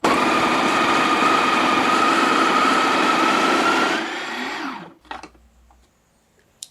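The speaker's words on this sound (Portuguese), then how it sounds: "Nós colocamos o café aqui por cima. E o nosso café, ó, aí é só apertar o botão." An electric coffee grinder grinds whole coffee beans, a loud steady high-pitched whir for about four seconds that winds down as the motor stops, followed by a few faint clicks and rattles.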